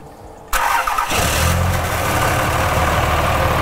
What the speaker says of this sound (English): All right, go ahead and start it up, Hunter.